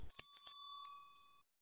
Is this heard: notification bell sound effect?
yes